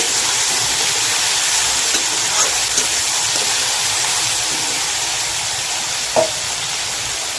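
Dried kachki fish curry with eggplant stirred in a pan gives a steady close sizzle and frying hiss throughout, with a few faint scraping clicks and a small bump near the end.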